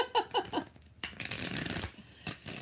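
A deck of tarot cards is riffled and shuffled close up, a few quick flutters followed by a longer rustling burst, with no one speaking.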